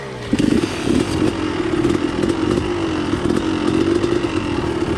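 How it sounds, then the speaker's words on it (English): A tractor engine revs loud and close in the open, its motor droning steadily for about five seconds with rattling mechanical clatter and small surges in pitch. "It's tractor time. Tractor engage."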